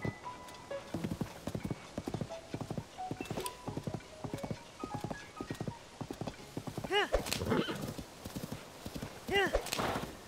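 Horse hooves clip-clopping in a video game, a steady rhythmic trot with occasional neighs and whinnies, moderately close and fairly quiet.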